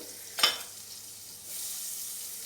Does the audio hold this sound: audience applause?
no